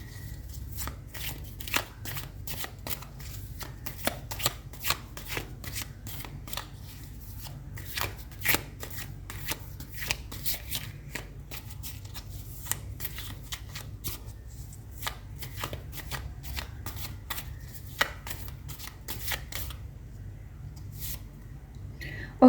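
Tarot cards are shuffled by hand at close range, a long run of crisp rapid flicks and riffles with uneven rhythm and brief lulls, over a quiet room hum.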